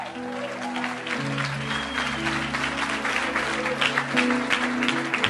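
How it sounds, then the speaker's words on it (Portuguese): Inside an evangelical church service, the congregation breaks into a burst of applause over sustained keyboard chords, the clapping dense and steady and rising a little in loudness near the end. "se você acredita, dê uma salva de palmas bem forte"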